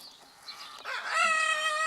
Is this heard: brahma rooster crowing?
yes